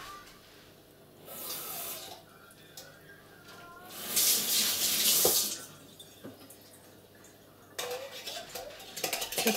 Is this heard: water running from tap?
yes